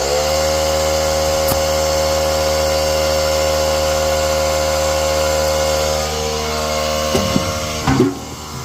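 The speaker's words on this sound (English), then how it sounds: "The one bad thing about this little compressor is that it fills up constantly." A small air compressor runs steadily while inflating an X3 tire, a constant loud motor whine and hum that dips slightly near the end, with a few clunks and knocks in the last seconds.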